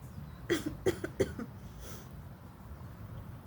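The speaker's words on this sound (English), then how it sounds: "I'll cough, but not really cough." A person gives several short, muffled coughs in quick succession near the microphone, then falls quiet; the coughs sound stifled and restrained rather than full.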